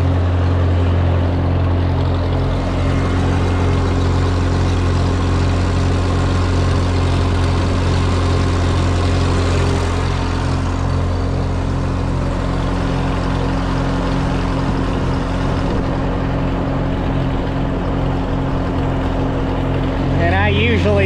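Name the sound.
crop sprayer running with pressure cranked up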